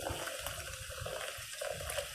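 Fizzy water is poured in a home kitchen, a soft continuous splashing trickle with a faint fizz, quiet and close, with no talking.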